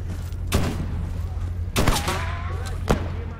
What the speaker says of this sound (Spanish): Me está disparando. No sé quién me está disparando.